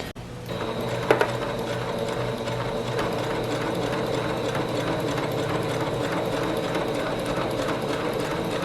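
A sewing machine stitches down a placket on an Edwardian bathing costume, running as a steady, continuous mechanical whir with a fast clattering rhythm for the whole stretch after a brief start.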